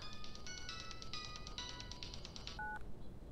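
A phone rings with an electronic ringtone, a quick melody of bright beeping tones that runs for a couple of seconds and ends in a short two-note beep, faint over low background noise.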